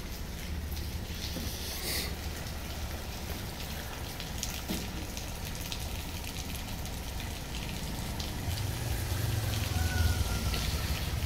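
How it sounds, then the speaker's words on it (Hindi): Rain falling outside during a downpour in Dadyal, a steady even hiss of drops on surfaces that grows slightly stronger toward the end, with no one speaking. "बारिश लगी हुई है निकी निकी"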